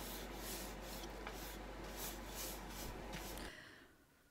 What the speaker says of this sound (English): I'll take it out to the garage and also sand it quite a bit